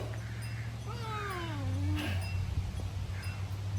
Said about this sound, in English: Miss Lark, you just caught the wild cat